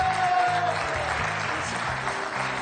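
Studio audience clapping on the French quiz show Questions pour un super champion, steady applause with tonal music playing underneath.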